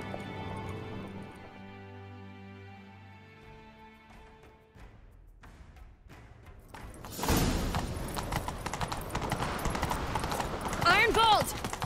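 In The Witcher 3: Wild Hunt, a horse's hooves clatter in a quick galloping rhythm, rising louder after a quieter stretch of music, with a brief whinny near the end.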